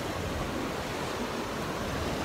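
Ocean waves at Imperial Beach wash in as a steady, broad roar of surf mixed with wind buffeting, continuous and fairly loud with no talking.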